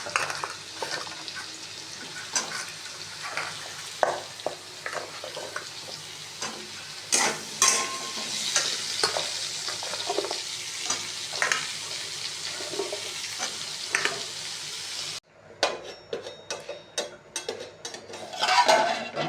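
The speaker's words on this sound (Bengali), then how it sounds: "আর এই যে আলুটা ভাজা হয়ে গেছে কুমড়োটা দিয়ে দিচ্ছি" Potato and pumpkin frying in a pan, with a steady sizzle and repeated scraping and stirring clatter throughout, briefly cutting out before resuming.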